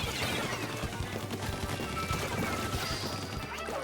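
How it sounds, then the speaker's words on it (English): Booyah Bomb blasts in a competitive Splatoon match, heard as a dense, continuous crackling roar of splattering explosions and rapid impacts under faint game noise. "Another Booyah Bomb comes out on the side of Greatest Boomers."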